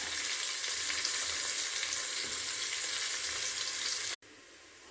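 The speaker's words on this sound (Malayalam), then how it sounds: "ഇനി നമുക്ക് സവാള ഇട്ട് കൊടുക്കാം" Onions sizzle steadily in hot oil in a pan alongside a soybean fry, a dense continuous frying hiss with a brief cut near the end.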